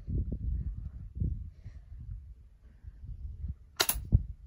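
An airsoft gun fires a single sharp, close crack near the end, following soft handling noises and low background rumble.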